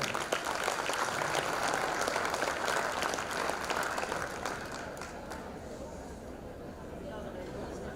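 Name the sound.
audience applause for a man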